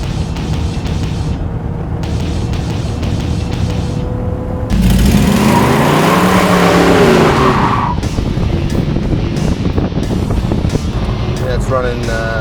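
A 1938 Ford Custom Deluxe Coupe cruising at about 78 to 79 miles an hour, engine just over 3,000 RPM, a steady loud engine and road drone with a swell of rushing noise midway, heard from inside the car.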